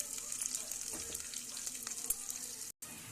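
Tomato pieces and curry leaves sizzling in a hot pan, a soft steady frying hiss with occasional stirring scrapes, faint and close, with a brief dropout near the end.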